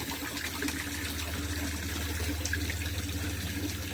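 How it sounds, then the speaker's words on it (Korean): Water splashes and runs steadily beside a cypress-forest mountain trail near a spring, where a hiker soaks a towel to rinse off. The sound is continuous and fairly close, with a low hum underneath and no talking. "수건에 물 적셔가지고 몸도 헹궜고"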